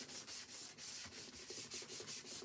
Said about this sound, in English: slightly scratchier sandpaper and go